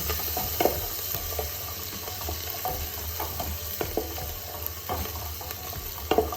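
Ginger, garlic and green chillies fry in a pan for a chickpea and paneer curry, giving a steady close sizzle with soft scattered pops and clicks throughout, no talking.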